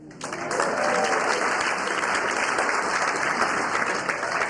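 An audience at an Illinois primary political forum breaks into loud, dense applause with cheering that holds steady for several seconds without pause.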